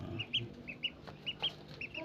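Broiler chickens cluck softly in a coop shared with ducks, a string of short, high, nasal calls scattered irregularly at close range against a quiet background.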